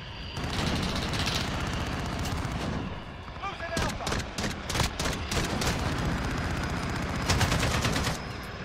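Gunfire in the Modern Warfare video game: loud, rapid automatic bursts and single shots crackle over a busy rumbling backdrop, with a fast run of sharp reports in the middle and a player talking throughout.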